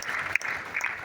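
An audience at a company event in a Thane banquet hall applauds for the regional manager, a brief dense burst of clapping carrying a faint bright tone, with a sharp louder clap partway through.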